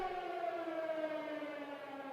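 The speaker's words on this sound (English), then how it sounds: "What a perfect time for the air raid siren there, right toward the end of the intermission." An air raid siren wails in one sustained, steady tone that sags slightly in pitch, loud and alone with no talking.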